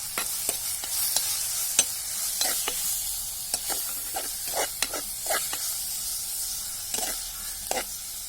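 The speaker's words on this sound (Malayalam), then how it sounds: "ഇത് ഇട്ടുകൊടുത്ത് ഒന്നും കൂടി നന്നാക്കി വഴറ്റിയെടുക്കാം" Onions, tomatoes, ginger, green chili and garlic sautéing in a pan for a beef masala roast, a steady hiss of frying under repeated sharp scrapes and taps of a spatula, close and fairly loud.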